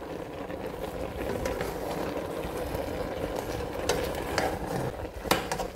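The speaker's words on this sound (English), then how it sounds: "Turn the soup now." Okra soup with cale leaves being stirred in a pot, a steady scraping and bubbling churn with a few sharper clinks of a spoon against the pot near the end.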